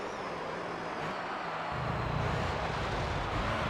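A car engine in Gran Turismo 3 hums steadily and fairly quietly, a low continuous drone that deepens slightly partway through, with no talk over it.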